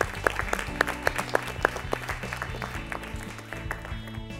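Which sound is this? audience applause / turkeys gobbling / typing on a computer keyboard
audience applause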